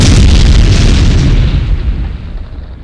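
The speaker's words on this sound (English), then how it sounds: "why did he just explode?" A loud, booming explosion that erupts at full force and rumbles on for a few seconds, its roar slowly thinning and fading, with no talking over it.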